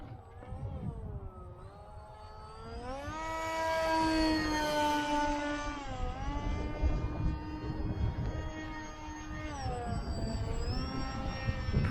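An FT Explorer RC airplane flies in 10 to 15 mph winds, its electric motor a thin whine that rises and falls in pitch as it manoeuvres overhead, with a steady rush of wind underneath.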